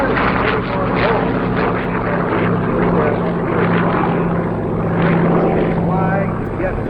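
A Corsair warplane flies at the Rochester International Airshow, a loud continuous propeller engine drone under a booming announcer's voice over the PA.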